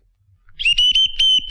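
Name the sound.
whistle sound in a comedy film scene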